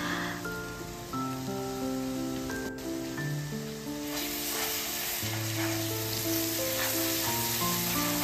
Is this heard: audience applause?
no